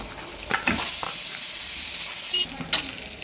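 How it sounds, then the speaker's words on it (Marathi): Dry grated coconut roasting in hot oil in a pan, a steady close sizzle and hiss with a few stirring scrapes, easing off briefly near the end. "सगळ्यात आधी मी सुकं खोबरं भाजून घेणार आहे"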